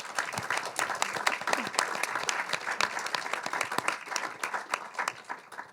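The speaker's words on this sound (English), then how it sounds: "Give them a nice applause." Lively applause from a festival audience rises and flows for several seconds, many hands clapping at once with distinct close claps standing out, slowly thinning toward the end.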